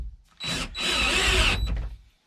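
A power drill drives a lag bolt into a workbench to mount a wedge anvil, two bursts of whirring motor, a short one then a longer sustained run, close and loud with no talk.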